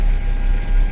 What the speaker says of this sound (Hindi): बड़ी मुश्किल से अब ट्रकों की आवाजाही वापस से शुरू हुई